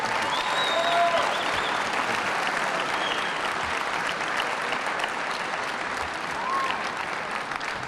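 Crowd applause for basketball great Julius Erving, a steady even wash of clapping with a few faint whistles, holding at moderate loudness throughout.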